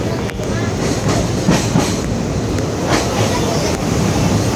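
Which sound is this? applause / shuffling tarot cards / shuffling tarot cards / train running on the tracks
train running on the tracks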